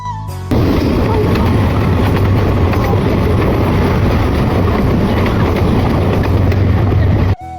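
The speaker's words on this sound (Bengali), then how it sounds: "ট্রেন জার্নির সময় ঝকঝকাঝক শব্দ শুনতে আমার বড্ড" A passenger train on an Eid journey clatters along the rails, a loud, continuous rumbling roar from inside the carriage, steady from start to finish.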